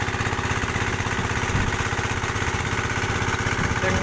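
A well drilling machine boring through rock at about 42 meters, with electric and diesel water pumps working alongside, gives a loud, steady, rapidly chugging engine drone throughout.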